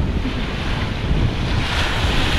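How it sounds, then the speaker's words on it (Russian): Sea waves roll and break on a beach, a loud continuous wash of surf mixed with heavy wind buffeting the microphone, with no voices. "Сейчас из моря выходили, и сзади волны так, щерк."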